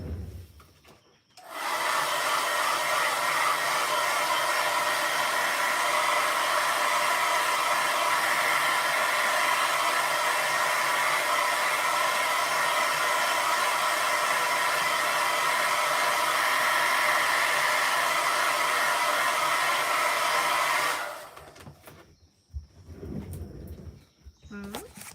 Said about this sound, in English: I have to go and use the hairdryer one more time